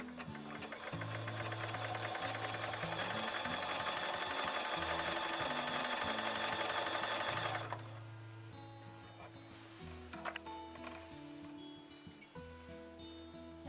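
A Bernina sewing machine stitches hand-look quilting stitches through a quilt with monofilament thread, giving a steady, rapid mechanical whir for about eight seconds that then stops, leaving quieter handling clicks and rustles.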